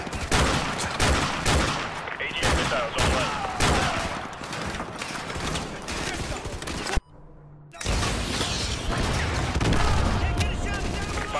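Missile strike explosions in Modern Warfare 2, dense loud rumbling blasts and crackling gunfire-like bursts with a brief sudden drop to near silence before the din resumes, mixed with voices.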